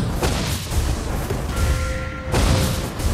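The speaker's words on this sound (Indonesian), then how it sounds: "Kalian tidak bisa lolos dari ledakan." A dense, booming video game explosion in Mobile Legends: Bang Bang, with rumbling low end and crackling debris, loud and sustained, followed by a second heavy burst.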